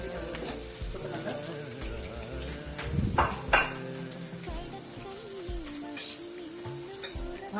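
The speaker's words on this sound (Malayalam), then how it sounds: "നമ്മൾ ബാക്കി ഉള്ളി ഇട്ട് അതിവിടെ മൂത്ത് കിട്ടണം" Onions fry in a pan alongside dried red chillies and curry leaves: a steady, fairly close sizzle with occasional clinks and stirring scrapes, swelling briefly in the middle, with no talking.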